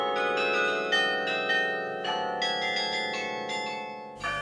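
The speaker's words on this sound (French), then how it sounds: "L'assemblage de plusieurs cloches forme le carillon." Carillon bells in a belfry ring out a melody, a series of resonant struck bell notes in a lilting rhythm, overlapping as they decay, loud and clear with no voices.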